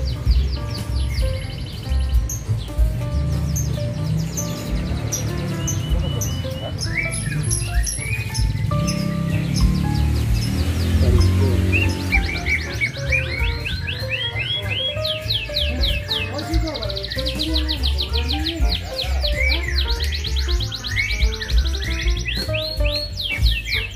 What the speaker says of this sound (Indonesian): Suara kencangnya. Burung apa namanya nih Om? Oh, lakbak.